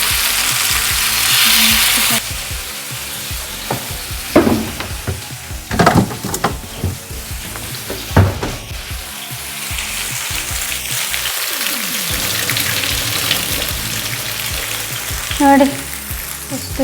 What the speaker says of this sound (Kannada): ಚೆನ್ನಾಗಿ ಫ್ರೈ ಆಗ್ತಾ ಉಂಟು ಸ್ವಲ್ಪ ಫ್ರೈ ಆಗ್ತಾ ಬಂತು